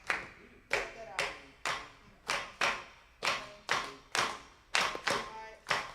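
Hands clap out a son clave pattern in a repeating three-then-two rhythm. The claps are sharp, close and evenly loud, with no voices between them.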